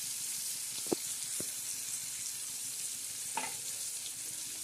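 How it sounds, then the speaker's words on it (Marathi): Onion and tomato frying over low gas in a pan, a soft steady sizzle with a few faint stirring clicks, heard alone without talk. "आता हे चांगलं फ्राय होत आहे आता हे फ्राय झाला ना चांगला कांदा नरम होतो टमाटा नरम"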